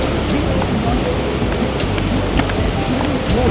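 Strong wind on a hot day buffets the microphone, a continuous loud rushing roar with gusty swells across the whole stretch.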